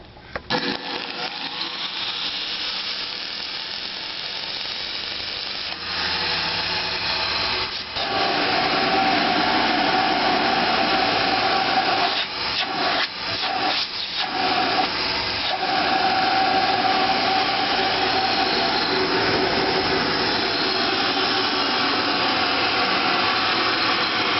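A 1913–1914 Spencer Turbine central vacuum, with its motor coupled to a single-bearing turbine, spins up and runs with a loud, steady whirring roar close by. The pitch rises early on, then holds with a few brief dips.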